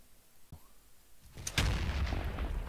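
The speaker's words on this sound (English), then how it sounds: "So the first thing we're going to be testing is the rocket launcher." A rocket launcher fires in the Roblox game Bedwars: a faint click, then a sharp loud blast that settles into a sustained rumbling roar for about a second, with no talking.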